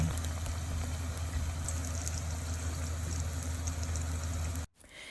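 Glutinous rice turon lumpia fry in oil over low-medium heat, making a steady, even bubbling sizzle with a low hum beneath it that cuts off abruptly near the end.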